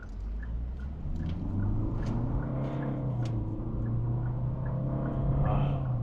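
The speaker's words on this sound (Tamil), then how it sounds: "ஸோ திரும்ப ஆக்சிலரேஷன் பண்ணி பார்க்கலாம். நான் வந்து ஸ்போர்ட்ஸ் மோட் போட்டுக்கிறேன்." A Hyundai Venue diesel automatic accelerating hard in sport mode, heard from inside as a steady low engine drone and road rumble that swells slightly as speed builds, with no talk.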